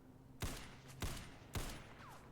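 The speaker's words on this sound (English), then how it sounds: "Open fire." Squad gunfire in the video game XCOM 2 War of the Chosen, three sharp evenly spaced shot bursts with quiet ambience between them, fairly faint overall.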